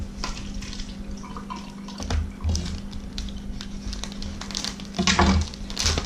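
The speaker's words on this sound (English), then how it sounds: "You're going to drain the tofu" Firm tofu drains in a kitchen sink, water trickling and splashing with a couple of louder gushes and squishy drips, with no talking.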